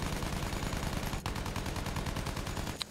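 Gunfire in the World War I shooter game Battlefield 1, a rapid run of automatic shots rattling steadily at moderate level, with a couple of sharper single cracks standing out.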